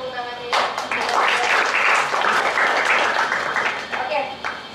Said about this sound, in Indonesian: Oke, boleh kita tepuk tangannya ya.